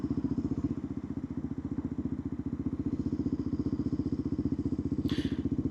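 Continuous close motorcycle engine thrum, steady and unbroken, as the bike moves past a long queue of cars jammed in traffic in Fukuoka, Japan, with a faint brief knock near the end.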